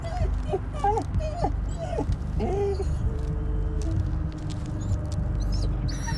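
A dog whimpers in the horror video game Blair Witch, a series of high, wavering whines and yips over a steady low rumbling ambience, with a voice murmuring briefly.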